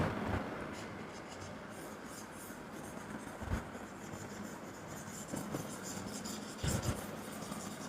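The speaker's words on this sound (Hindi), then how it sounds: "ये मैं इरेज कर देता हूँ यहाँ से" A whiteboard eraser rubs off handwritten working from a compound-interest maths lesson, a steady scrubbing rasp with a few sharper knocks, close and alone.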